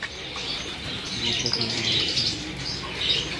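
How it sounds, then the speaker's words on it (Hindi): Sabz cheene pigeons kept by a pigeon fancier in Kasur call with soft coos and chirps, fairly close and steady throughout, with faint voices nearby. "ये आपकी स्क्रीन पर सबज चीने कबूतर हैं।"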